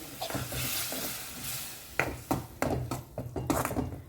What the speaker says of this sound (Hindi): इसे मिक्स करते हैं अच्छे से।